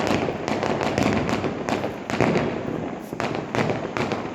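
Firecrackers burst in a village in a dense, continuous crackle, with repeated louder pops rising above a constant noisy roar.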